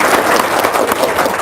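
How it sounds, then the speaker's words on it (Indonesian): An audience claps together in a brief, dense burst of applause at a talk, loud and continuous for the whole moment without any spoken words over it. "Tepuk tangan dong."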